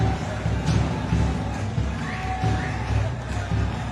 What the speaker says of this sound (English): The crowd drumming up an atmosphere here in Abu Dhabi.